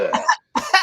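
Two short, sharp human coughs in quick succession, close and fairly loud, separated by a brief silence.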